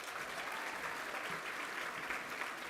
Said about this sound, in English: So that really needs a round of applause as well.